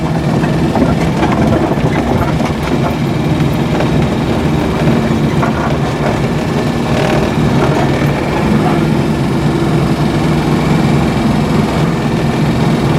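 A car engine hums steadily throughout as a learner driver works the gas, a continuous loud low drone with no clear surges or pauses.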